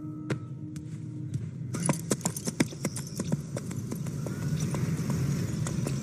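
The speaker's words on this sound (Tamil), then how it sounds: "அக்கா சூப்பராக குதிரை ஓட்டுறாங்க" A ridden horse clip-clops at a steady trot, the hoofbeats close and distinct. A faint jangle and scattered clicks mix with the hoof sounds.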